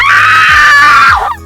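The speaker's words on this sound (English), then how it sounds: "the notification that pops up is gonna be a loud, horrible scream that sounds exactly like this." A loud, horrible scream used as a donation notification sound, one sustained shrill shriek lasting over a second before cutting off abruptly.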